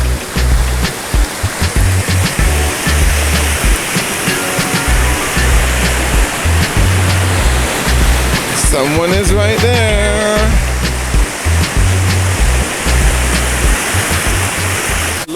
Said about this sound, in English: Look at the waterfalls behind me.